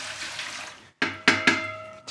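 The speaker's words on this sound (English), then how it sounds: "So we're going to add all the water" Two liters of water for enriched bread dough are tipped into a mixer bowl: a short splashy pour, then a pause and a few loud sloshing bursts, close and clear.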